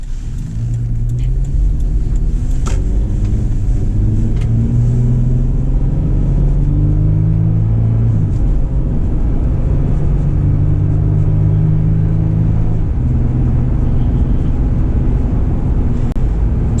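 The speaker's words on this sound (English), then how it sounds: "So as I accelerate here, I'm going to do a part throttle acceleration." A 2018 Toyota 4Runner with a TRD cold air intake pulls under part-throttle acceleration, its engine drone rising steadily and loud from inside the cabin, with a few gear changes.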